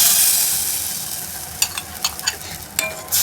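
Spices stirred in hot oil in a pan for drumstick sabzi, with asafoetida and green chillies: a steady sizzle followed by several sharp scraping stirs near the end.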